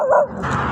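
A puppy gives a short, high yip close by, followed by a rough, muffled sound with no speech.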